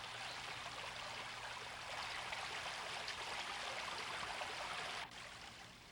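Water of Gap Creek, a small creek, flows and trickles steadily with a broad hiss, close and continuous, dropping slightly in level near the end, with no voices.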